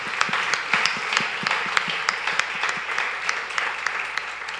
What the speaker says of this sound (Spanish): Un aplauso para ellos, Dios los bendiga.